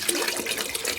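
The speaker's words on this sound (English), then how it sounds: "So let's see if we can get water to go down there." Water pouring and splashing steadily into a Petter M engine, a continuous bright gurgling rush with no pauses, close and moderately loud, with no talk.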